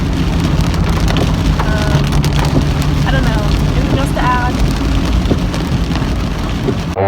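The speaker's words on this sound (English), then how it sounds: "Storms, please stop." Heavy rain pours steadily in a thunderstorm, a dense loud hiss that runs unbroken throughout, with a few faint high chirps and a person speaking briefly beneath it.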